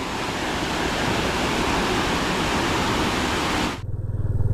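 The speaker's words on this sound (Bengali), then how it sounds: "এখন আমরা টাইগার পয়েন্টের নিচের দিকে যাচ্ছি ঝর্ণাটা দেখো" Waterfall below Tiger Point in Mainpat, Chhattisgarh, during the monsoon: a loud, dense, unbroken roar of falling water heard up close, cutting off abruptly near the end into low rumbling wind buffeting the microphone.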